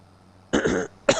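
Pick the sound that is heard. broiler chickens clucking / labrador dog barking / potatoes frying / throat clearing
throat clearing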